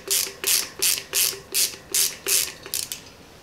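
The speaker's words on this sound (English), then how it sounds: "I've got my T25 on my ratchet." A hand ratchet fitted with a T25 Torx bit works on a front brake rotor bolt of a Surron Light Bee wheel sitting on a tire stand, giving about eight loud, rhythmic, evenly spaced clicking pulls up close, with no talking.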